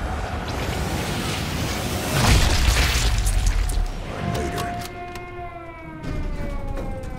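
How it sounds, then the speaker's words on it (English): An alarm system siren in the Sniper Elite 5 video game wails with a rising, sustained tone alongside a loud boom and game sounds, moderately near. "that's the alarm system."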